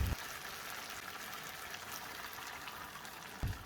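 Garlic, red chili ketchup and water bubbling and sizzling in a pan while shawarma red sauce is made, a steady close hiss of frying and boiling, with a couple of brief louder bumps at the start and end.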